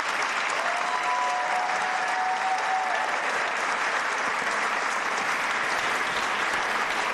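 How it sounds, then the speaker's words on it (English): Sustained, even applause from a large audience at a governor's State of the State address, a broad continuous wash of clapping for the full length, moderately distant and without speech. "a big round of applause"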